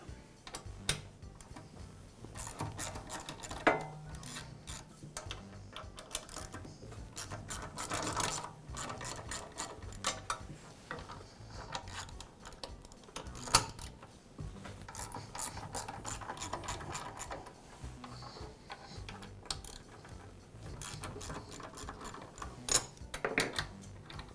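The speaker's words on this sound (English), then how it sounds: "With the outlet tube removed, now I can remove the head." A DeWALT air compressor has its head taken off, heard as a close, quiet run of ratchet clicks, scraping and small metal knocks in uneven bursts, with no talking.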